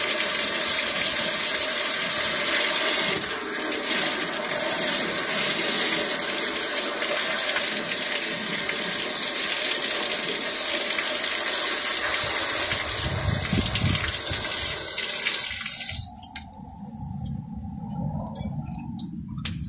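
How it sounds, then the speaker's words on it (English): Water is pumped into a mud-filled vehicle frame, a loud, steady gushing rush with muddy water spilling out, dropping off sharply near the end to a thinner splashing flow. "Pumping water in here, and that's the mud coming out here."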